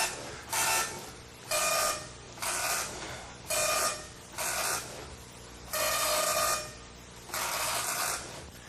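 An MSX computer printer prints a line of typed text, giving seven loud, bursty passes of the print head, each about half a second long and separated by short pauses, over a steady mechanical hum, with no talk.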